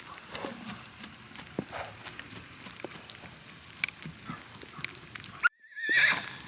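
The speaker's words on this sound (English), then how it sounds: "this horse didn't have any friends until I moved in" A horse walks with soft, irregular hoof thuds and scuffs nearby, then lets out a loud, close neigh at the end after a brief moment of silence.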